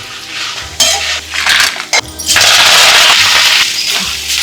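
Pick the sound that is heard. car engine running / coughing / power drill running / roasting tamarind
roasting tamarind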